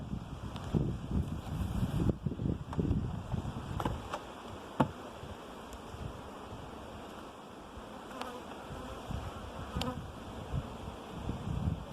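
Honeybee foragers buzz in and out around a garden hive, a faint continuous insect hum with a few louder passes close to the microphone and some handling knocks early on.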